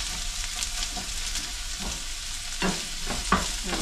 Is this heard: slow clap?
no